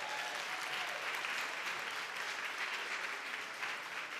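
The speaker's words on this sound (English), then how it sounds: "Give her a big round of applause." Sustained audience applause at a health talk, a dense, steady wash of clapping from a crowd that holds at an even level throughout with no break.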